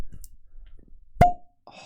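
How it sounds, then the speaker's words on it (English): A cork pops from a bottle of Old Forester bourbon, one sharp close plop with a brief ringing tail, then quiet rustling. "Ready for another beautiful cork pop?"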